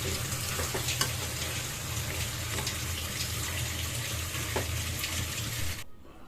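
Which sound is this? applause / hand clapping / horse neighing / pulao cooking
pulao cooking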